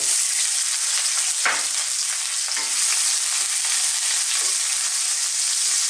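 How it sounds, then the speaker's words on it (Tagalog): Garlic and onion sautéing in hot cooking oil in a wok, a steady loud sizzle with a few stirring scrapes, no talk. "Gigisayin lang po natin."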